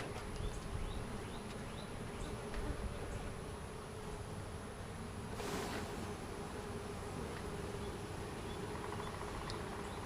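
Honeybee swarm buzzing during a hive move, a dense, steady drone of many bees, close and continuous for the whole stretch with a brief louder swell midway.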